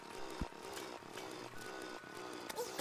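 A chainsaw weapon in the video game Terraria buzzes and revs in repeated short bursts, a quiet rasping whine with brief spikes, no voices over it.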